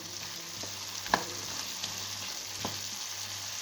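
Mushrooms frying in a pan in their own released juices, for a dish with meat and potatoes: a steady close sizzle with a few sharp clicks of stirring.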